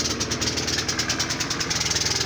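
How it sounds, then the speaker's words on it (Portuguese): A tanker truck engine idles roughly, with a steady, uneven pulsing knock and heavy vibration, loud and close with no talk over it. "o motor tá queimando ruim"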